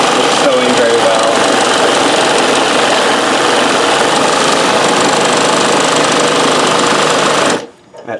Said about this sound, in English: we'll just give us a blast so you can see it's sewing very well.